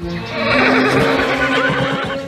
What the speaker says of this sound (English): I certainly would recommend him as a nice quiet trekking horse